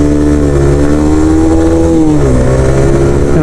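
Suzuki Van Van 125 motorcycle accelerating hard, its small single-cylinder engine revving loud and close with a rising, strained drone held steadily throughout, no voices.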